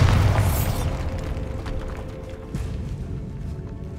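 A Bombarda spell blast in Hogwarts Legacy: one loud, close boom at the start with a burst of debris, then a rumbling decay and scattered crumbling under a low ambient drone.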